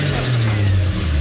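A turbocharged Ford AU 4.0L Intech engine in a budget drift car settles into a steady, low, throbbing idle, its pitch easing down slightly, heard up close.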